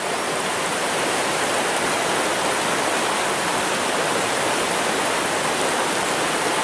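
A forest stream in flash flood rushes steadily and loudly, a dense continuous roar of churning water with no let-up and no voices.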